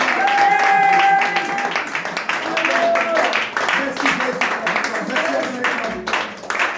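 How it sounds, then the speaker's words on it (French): A church congregation applauds and acclaims loudly in a sustained wash of clapping and raised voices, with a prominent voice calling out over the crowd throughout. "acclame très fort le Seigneur"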